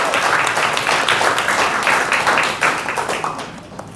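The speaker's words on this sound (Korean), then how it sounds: "박수 한번 주세요." A seminar audience breaks into steady, dense applause from many hands, holding for a few seconds and then fading out.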